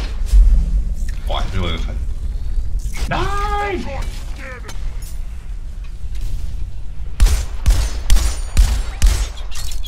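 Bursts of gunfire in Deep Rock Galactic crackle in quick volleys near the end, after stretches of background game noise and a voice talking.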